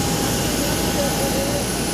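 Ryanair airliner jet engines, a steady broadband roar with a faint high whine, loud and continuous, with a voice partly mixed in underneath.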